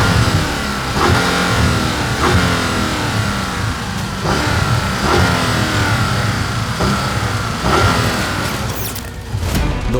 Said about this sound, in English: And that means launch control with a clutch dump, so it'll get off the line like a rocket.